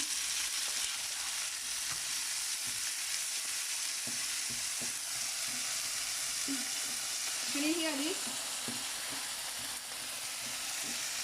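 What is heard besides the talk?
tomatoes frying in a pan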